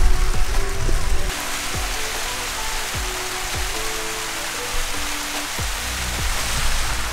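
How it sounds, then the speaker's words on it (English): Waterfall cascading down a series of drops on Ka'au Crater Trail in Hawaii, a steady broadband rush of water close by, with occasional knocks and taps over the constant flow. "we're still climbing waterfalls. Same set of waterfalls, just keeps on going to the top"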